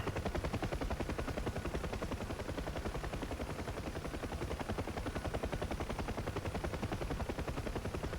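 A UH-1 Huey helicopter in the flight simulator DCS flies with a loud, close, rapid rotor thump beating evenly and continuously, heavy and mechanical, with no talk over it.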